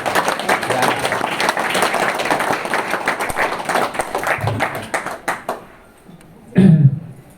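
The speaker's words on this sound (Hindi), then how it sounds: "जो नहीं आए उनके लिए भी ताली।" An audience claps in a dense, steady burst of applause that fades out, followed by a short low thump.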